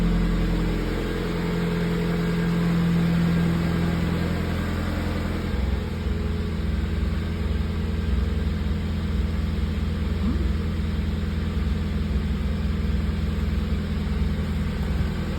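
Mazda NB Miata engine running off a jumper cable from another battery, a steady low idle hum throughout with a slight change in tone partway, close and continuous, no talk.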